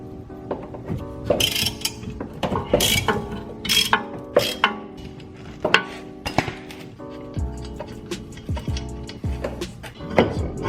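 Metal clinks, ratchet clicks and rattling as rear trailing arm bracket bolts are worked loose on a BMW E46 M3, a series of sharp close knocks and scrapes with no talk.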